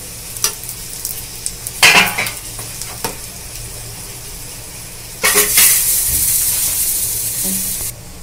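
A flipped eggplant paratha hits the hot pan. A few scattered clicks and scrapes come first, then a loud, close burst of sizzling oil starts and holds steady to the end.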